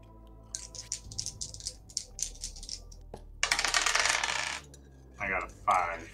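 Dice rolled during a tabletop pirate role-playing game session: bursts of clattering rattles and tumbling clicks on a hard surface, a longer loud roll in the middle, then two shorter rattles near the end, with no talk.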